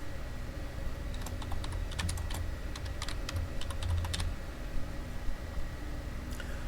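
Close-up key clicks from a computer keyboard come in short bursts over a faint steady hum, with no voice.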